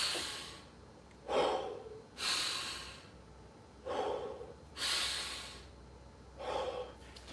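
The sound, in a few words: rhythmic mechanical breathing exercise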